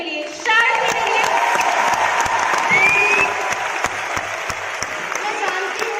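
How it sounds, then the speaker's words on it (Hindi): An audience at a business success day event in Ludhiana bursts into sustained applause, loud and dense at first and then easing slightly, with a voice heard over the clapping. "मैं एक बार जोरदार तालियां चाहती हूँ"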